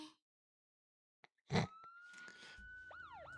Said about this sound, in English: the wail of a siren cuts through the air, followed immediately by the screech of tires